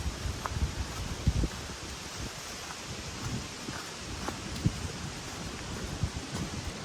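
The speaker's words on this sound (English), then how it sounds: "I didn't know it was supposed to be this windy." Continuous wind blowing outdoors in Allegheny National Forest, a soft broadband rush with faint rustling and occasional light buffets against the microphone.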